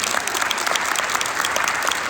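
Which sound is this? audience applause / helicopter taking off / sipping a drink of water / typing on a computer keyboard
audience applause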